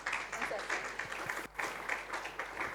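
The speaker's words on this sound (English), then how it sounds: "with a big round of applause as well" A crowd applauds steadily, a dense patter of many hands clapping at moderate distance, continuing throughout with a short dip in the middle.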